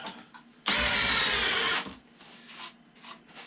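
A power drill drives screws straight through wood while building a bonsai backdrop, one loud, steady whirring burst of about a second, close by and alone, with quiet room sound before and after.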